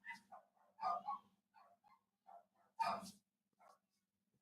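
Dogs barking at the front door, several separate sharp barks and yips at irregular intervals, moderately near, with quiet gaps between them.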